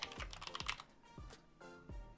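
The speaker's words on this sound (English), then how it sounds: "Straight up typing Zeus logo." Keys clack on a computer keyboard in a short run of quiet, close taps, irregular clicks spaced a fraction of a second apart.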